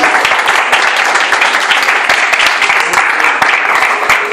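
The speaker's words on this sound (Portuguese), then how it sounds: "glorificando o nome de Jesus com palmas" A church congregation claps together in worship, a dense, continuous burst of palms close by filling the room for a few seconds.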